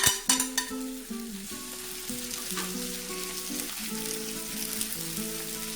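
Smoked salmon and cherry tomatoes sizzle in a hot skillet, a steady crackling hiss after a few sharp clattering pops at the start, with soft tonal music playing underneath.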